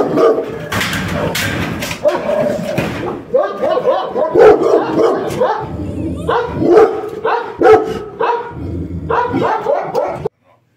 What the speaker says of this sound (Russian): Там собака.